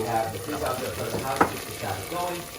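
Arborio rice pours into a hot pan for a tomato risotto with chicken, bringing a steady frying sizzle with stirring scrapes and one sharp clatter midway, while people talk quietly over it.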